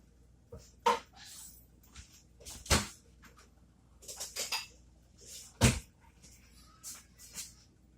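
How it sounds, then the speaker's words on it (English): Kielbasa stew being scooped into a bowl, with a few sharp clinks and knocks of utensil against dish scattered through quiet kitchen background. "All you're going to do is just simply scoop this into a bowl"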